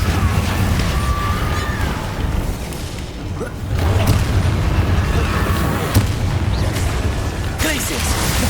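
A Confringo blasting spell goes off during Hogwarts Legacy gameplay, heard as dense, loud rumbling blasts and crackling bursts that fill the whole stretch, with game effects layered over them.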